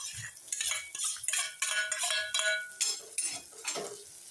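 Onion frying in oil over low gas in a home kitchen, with steady close sizzling broken by repeated spoon stirs and light clinks against the pan.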